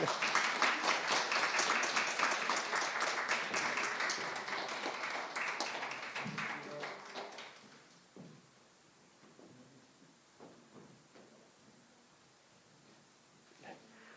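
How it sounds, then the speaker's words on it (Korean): A church congregation applauds warmly, then the clapping thins out and fades into quiet with a few scattered taps. "우리 한 번 더 축복의 박수하도록 하겠습니다."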